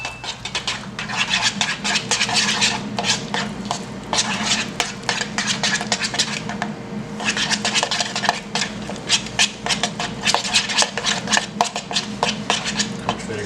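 Spring roll sauce stirred in a bowl, a long run of rapid scraping clinks of a utensil against the sides, steady and close, with a brief pause midway before the brisk rhythmic stirring resumes.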